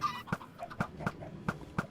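Chickens in the Minecraft video game, hatched from thrown eggs, give a series of short clucks spaced through the moment, fairly faint, with game background sound and no talk.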